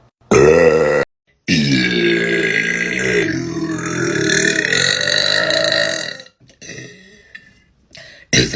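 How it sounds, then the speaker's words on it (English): A dog gives several long, drawn-out burps, loud and close, with a brief gap between the first two and quieter rumbles fading at the end. "Burp dog."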